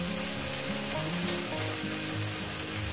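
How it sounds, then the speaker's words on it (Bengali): Okra and onion frying in a pan, a steady dense sizzle with a stirring rhythm underneath, close and continuous throughout with no talking. "ঢেঁড়স আর পেঁয়াজটাকে এত সুন্দর করে ভাজবেন"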